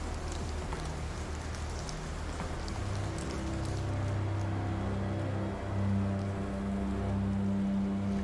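Steady rainfall in the horror video game Call of Cthulhu, a dense continuous hiss of drops on surfaces with a low rumbling ambient drone beneath, even and unbroken throughout.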